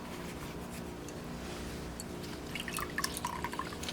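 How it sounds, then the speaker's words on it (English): Water drips faintly from an item just dipped in water while cleaning silicone off an acrylic pour, a few small, scattered drops landing close by over a quiet background. "I'm gonna dip it again in water,"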